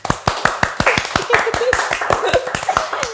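One person clapping for herself on a chat show, sharp evenly spaced claps close up, about a dozen in a row, while people talk and laugh around them.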